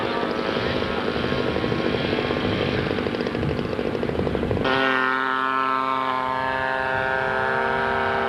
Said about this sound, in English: This P-51 safely airborne.